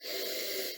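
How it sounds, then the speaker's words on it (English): A single sharp sniff through the nose at a beer, close and fairly loud, lasting under a second. "Gives it a sniff."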